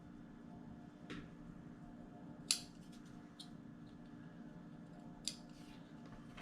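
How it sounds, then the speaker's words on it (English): Scissors snipping extra ribbon, a few short, crisp cuts spaced apart over quiet room tone; faint and close. "we're going to snip some of that extra ribbon off"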